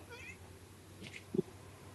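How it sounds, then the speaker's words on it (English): A single short cat meow, faint and brief, rises once near the end over a low, steady room hum in a home setting during a Minecraft game stream. "You have anything else to say, Cat"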